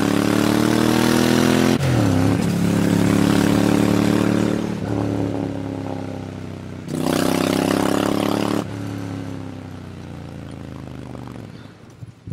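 A Ducati Monster 796 motorcycle engine opened to full throttle, loud and close, revs climbing in two strong pulls with a sharp drop between them before easing off.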